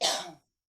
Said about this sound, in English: the nicotine gum is making me cough